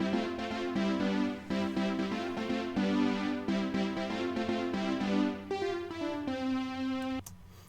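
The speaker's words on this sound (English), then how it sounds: "it's like a synth string with like a phonograph filter on it" Synth string riff run through a phonograph filter in a Logic session, a dense chordal melodic line with rhythmic harmonic stabs and layered accompaniment, ending on a held note that cuts off abruptly.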